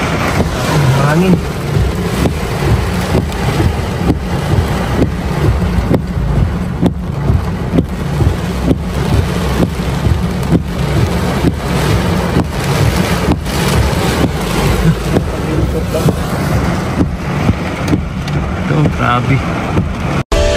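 Strong typhoon wind in the Visayas batters the microphone in a continuous loud roar with repeated gusty buffeting bursts for the whole stretch.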